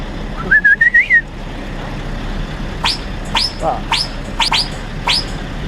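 A haulage truck gives off a high whistling sound like a Turkish whistle: one warbling tone early on, then a series of short rising whistles, each ending in a sharp high note, over steady low background noise.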